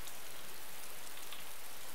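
Steady rain pours in the video game DayZ, an Arma 2 mod, as a dense, even hiss with no breaks and no voices.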